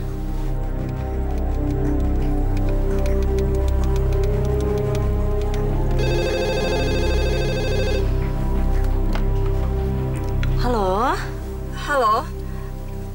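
A telephone rings loudly for about two seconds with a steady electronic bell tone, set against continuous background music in an Indonesian television drama scene.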